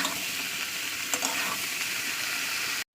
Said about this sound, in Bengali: এবার কিন্তু এই তেলের মধ্যে এখন 2 থেকে 3 মিনিট ভাজা ভাজা করবো